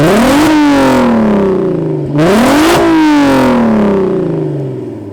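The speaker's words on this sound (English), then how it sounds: "My favorite thing about my car is honestly the exhaust note." A Volkswagen Golf R fitted with a supercharger kit revs twice in quick succession, each loud, close blip climbing sharply and then falling away through the exhaust, the second rev lingering longer as it fades.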